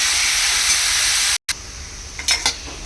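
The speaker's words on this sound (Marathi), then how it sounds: "कांदा छान लालसर असा होईपर्यंत आपल्याला ते कढईमध्ये परतून घ्यायचं आहे" A broad, steady sizzling hiss of onions frying in a kadhai until reddish for sev bhaji, briefly cut off, then returning softer with a few stirring scrapes.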